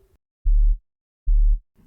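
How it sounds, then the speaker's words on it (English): Synthesized sine wave bass, two short deep tones of equal length a beat apart, clean and loud with soft attacks and smooth tails, nothing else around them. "Start with a sine wave."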